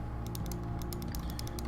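Computer keyboard keys pressed in a quick irregular burst of clicks while drawing in 3D modeling software, close and fairly quiet over a low steady hum, with no talking.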